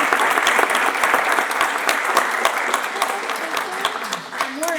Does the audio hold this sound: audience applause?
yes